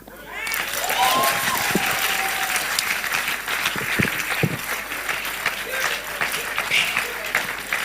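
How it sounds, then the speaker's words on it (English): Crowd at a political rally claps loudly and continuously, a dense wash of applause that carries on throughout, with voices and cheering mixed in. "Don't stop clapping."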